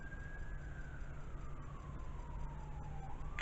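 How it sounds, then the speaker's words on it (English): A distant ambulance siren wails faintly, one long tone sliding slowly down in pitch over steady background noise. "I don't know if y'all can hear the ambulance"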